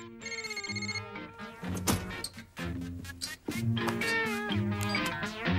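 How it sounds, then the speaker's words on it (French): A telephone rings with a bright, repeating electronic tone, close and fairly loud, alongside other tonal sounds in an indoor scene. "Nora, quelqu'un essaie de t'appeler?"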